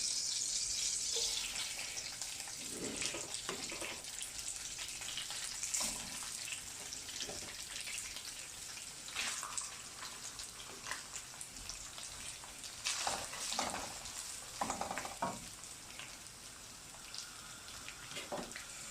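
Rice frying in hot oil gives a steady, hissing sizzle with crackling pops and bursts of louder spatter, continuing without letup for a long stretch.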